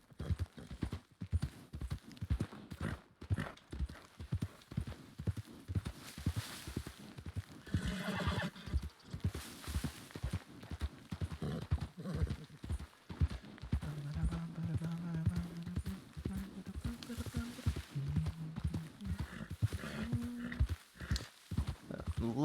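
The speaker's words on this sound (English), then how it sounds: "off goes the horse" Horse galloping in the Red Dead RP video game: steady rhythmic hoofbeats clopping continuously at close range, with someone talking over them for most of the run.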